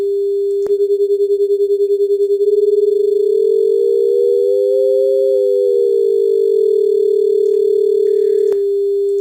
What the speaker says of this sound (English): as you move the tones further apart, the rate of beating increases